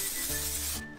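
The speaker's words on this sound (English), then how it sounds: "Spray your pan." A short hissing burst of cooking spray onto a pan, loud and close, lasting under a second before cutting off abruptly.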